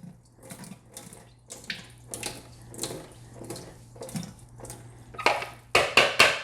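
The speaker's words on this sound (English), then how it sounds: "Get some water on them again." Tap water splashes over water kefir grains in a bowl in uneven bursts, growing louder and more forceful toward the end, heard up close.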